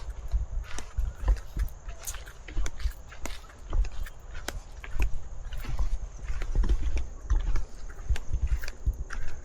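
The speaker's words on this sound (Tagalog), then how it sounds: "Kabayo nga dun." Horse hooves clip-clop steadily along a trail at an eco park in Baguio, with a brisk rhythmic stream of close hoof strikes throughout and no clear talking.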